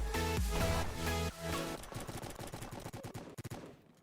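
Rapid automatic gunshots in the Roblox game Prison Life: a tight, rhythmic burst of shots following a loud sustained musical tone, rattling quickly and then thinning out and fading near the end.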